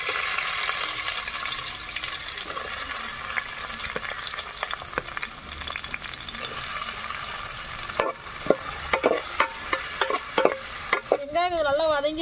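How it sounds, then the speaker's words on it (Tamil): Onion fries in hot oil with fennel seeds and cardamom for an egg curry, giving a steady close sizzle broken by scraping stirs, then a rising bubbling and hissing near the end. "வெங்காயம் நல்லா வதங்கிருச்சு."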